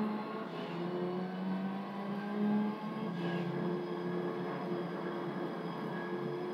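Evo 7 rally car engine from Gran Turismo 3 on a Tahiti rally course, a steady droning engine note that shifts pitch slightly as it revs, continuous and fairly close with no talk.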